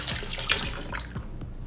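Water poured into a pot of chicken stew, splashing and gurgling in a steady trickle at close range, fairly quiet with no talking.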